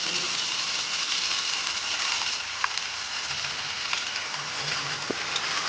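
Ginger-garlic paste fries in oil for ghugni, a steady close sizzling hiss with faint pops.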